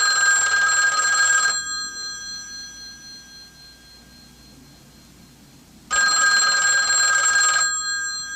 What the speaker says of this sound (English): Daddy, do you want me to answer the phone?